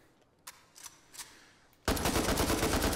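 A WW2-era gun in the VR game H3VR fires a few spaced single shots, then breaks into a loud, sustained burst of rapid automatic fire close by, with no talking.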